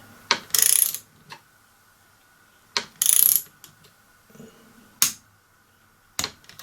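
A torque wrench tightening the gear head of a Stihl 145-degree pole trimmer, several sharp metallic clicks and short ratcheting bursts spaced a second or two apart, close and isolated, with no voices.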